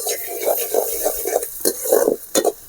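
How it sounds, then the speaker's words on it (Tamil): Finely chopped onions sauté in a pan for mint and egg rice, soft sizzling broken by several spatula stirs and scrapes, close and fairly loud, no voices. "வெங்காயம் நல்லா வதங்கணும்."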